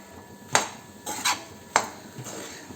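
Puran poli filling is stirred in a pan, with a spoon knocking and scraping against the metal in several sharp, irregular clinks over a quiet background.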